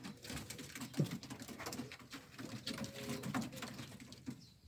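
Ödemiş Kelebek tumbler pigeons in a coop give soft low cooing and murmuring calls over a busy rustling background, with one sharper note near the start.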